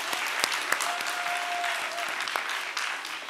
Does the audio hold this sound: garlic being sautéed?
no